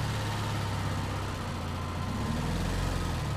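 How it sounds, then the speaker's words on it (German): In Resident Evil 4, a truck's engine rumbles low and steady as it pulls away, a dense continuous drone that deepens slightly near the end. "Der LKW fährt los."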